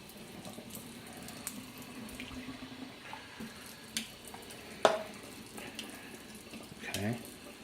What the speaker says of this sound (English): now that my water has come up to temperature from the faucet